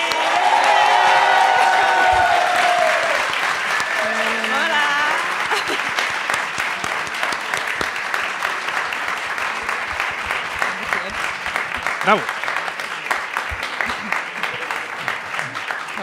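Studio audience on a Spanish television show about Studio Ghibli's Spirited Away breaks into loud, sustained applause mixed with cheers and whoops. It begins under a voice and music, and someone calls out once partway through.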